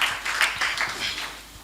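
Audience applause after an introduction at an event, a dense burst of clapping from many hands that stays steady and fairly loud throughout, with no voices over it.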